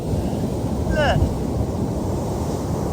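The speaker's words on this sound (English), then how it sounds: "Look at the waves." Ocean waves roll onto a beach during a storm, a steady close roar of surf mixed with wind buffeting the microphone. A brief voice sounds partway through.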